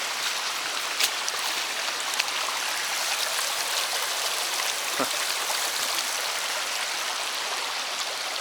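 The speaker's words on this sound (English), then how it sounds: "another section of the trail here that's turned into a water system that probably shouldn't be here" A stream of water runs across a wooded hiking trail on the East Loop of the Chuck Keiper Trail. It gives a steady, loud, rushing babble throughout, with no voices.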